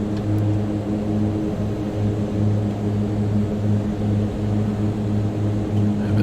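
Steady, loud drone of a Mitsubishi MU-2 turboprop in flight heard from inside the cabin, with strong low harmonic bands that hold constant throughout and no talk.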